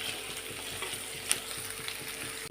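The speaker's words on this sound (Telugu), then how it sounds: "మనం మంచిగా సన్నగా తరిగి పెట్టుకున్న సోరకాయ ముక్కలు వేసుకోవాలి వేసుకొని ఇవి ఒక్కసారి అలా కలుపుకొని ఇవి బాగా మగ్గనిచ్చుకోవాలి" Finely chopped bottle gourd pieces sizzle steadily in a pan while being stirred, with a close, continuous crackle of frying, soft scraping from the spoon, and one sharp clink partway through.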